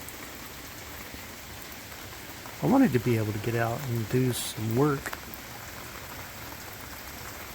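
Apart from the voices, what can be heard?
rain falling outside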